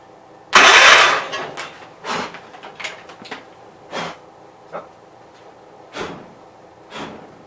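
A Gravely 810 tractor engine, just primed, gives a loud burst as it tries to start, followed by several shorter, weaker pulses spaced about a second apart, close and with no talk.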